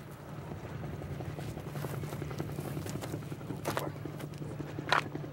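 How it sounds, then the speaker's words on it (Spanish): A helicopter flies at night as a continuous low rotor drone with a steady hum, holding fairly even in loudness, with a few faint thumps and rustles near the end and no speech. "El helicóptero anda vuelto loco."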